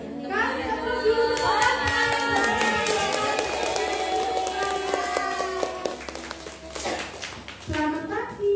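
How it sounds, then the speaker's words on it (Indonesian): Children in an Indonesian village classroom clap to welcome a special guest, rhythmic hand claps under loud overlapping kid voices and chatter, ending with a brief flurry. "kasih tepuk dulu"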